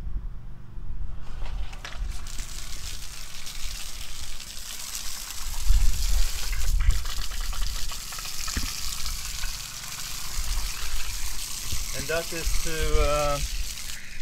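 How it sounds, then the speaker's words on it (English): Water sprays and splashes steadily against a car wheel, rinsing off cleaner, a continuous hissing rush up close, with some clunks and a brief squeaky noise near the end. "I'm rinsing first with water."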